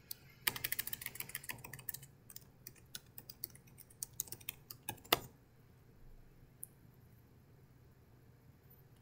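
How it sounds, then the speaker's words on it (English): A password is typed on a computer keyboard during an SSH login from Windows 10, with quick bursts of close, crisp key clicks, then a pause and a few scattered taps as the typing trails off into quiet. "Let me type the password"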